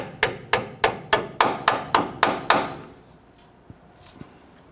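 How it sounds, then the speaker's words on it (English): Nine crisp hammer taps in an even rhythm, close and light, tapping a clip onto a front brake hose of a Nissan Frontier, followed by quiet background with a couple of faint knocks. "Push that on, and then we'll just tap it on with our hammer, just gently."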